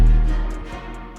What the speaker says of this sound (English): You can slice up an 808 note and then fade it in